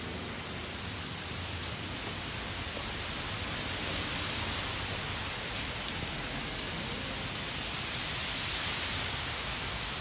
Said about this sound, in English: still on our walk, watching the rain